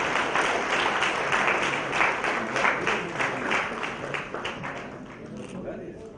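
An audience at a university valedictory prize ceremony claps steadily and densely for about six seconds, a loud, sustained wash of many hands that eases slightly toward the end.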